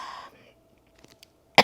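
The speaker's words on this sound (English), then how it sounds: "that's just a tiny cough" A single small, quick human cough, close and fairly loud, comes near the end after a brief quiet pause.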